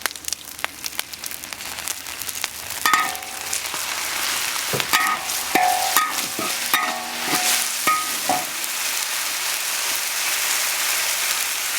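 A meat filling stir-fried in a wok with cooking wine and soy sauce sizzles steadily, punctuated by the clatter and scrape of a spatula against the pan, close and continuous with no talking.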